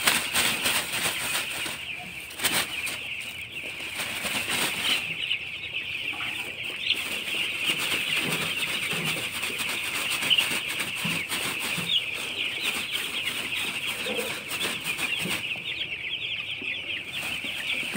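Broiler chickens in a poultry shed cluck continuously with occasional wing flapping, a dense nearby flock chatter over a steady high-pitched background hum.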